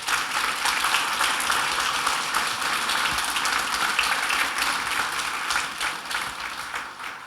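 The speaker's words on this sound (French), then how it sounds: "Je pense qu'on peut l'applaudir." Audience applause at a French nature conference held at Beauval, a dense, steady patter of many hands clapping at moderate distance for about seven seconds, fading slightly toward the end, with no speech.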